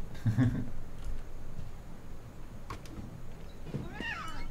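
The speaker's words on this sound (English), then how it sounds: "I mean, that's the cat." A cat meows in the video game What Remains of Edith Finch, one short nasal meow at the start and a faint rising cry near the end over a steady ambient hum.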